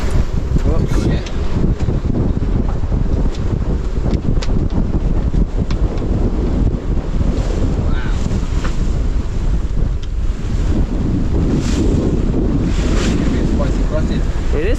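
Strong, gusty wind blasts across a sailboat beating upwind on a rough crossing, loud roaring buffets on the microphone mixed with waves and splashing, with people talking now and then.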